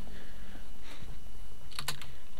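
Quiet, steady tapping on a computer keyboard, soft keystrokes in an even rhythm with a short quick burst of sharper clicks near the end.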